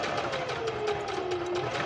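A sewing machine in need of oiling runs roughly and continuously, a close, steady mechanical whir with a slightly uneven, grinding rattle and no talking.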